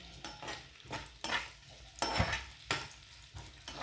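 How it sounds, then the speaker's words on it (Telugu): Onions and green chillies fry in hot oil, a faint crackling sizzle under repeated scraping stirs of a spoon against the pan, coming in rhythmic bursts about every half second. "ఇప్పుడు కట్ చేసి పెట్టుకుని ఉల్లిపాయలు, పచ్చిమిర్చి వేసుకుని ఫ్రై చేసుకుందాం"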